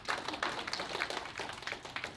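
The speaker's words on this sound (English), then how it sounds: "let's give a round of applause again to Attorney Chrissete Agustin" An audience at a conference session on investment and market research applauds, steady scattered clapping from a room of people, moderately distant and fairly quiet, with no voices over it.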